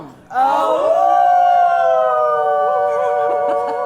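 A person in a longest-howl contest imitates a dog's howl in one long, loud, wavering note that holds steady for several seconds before tapering slightly.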